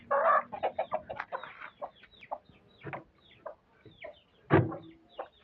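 Hens and a rooster cluck repeatedly in short, irregular bursts, fairly close, with one louder squawk near the end; no talking.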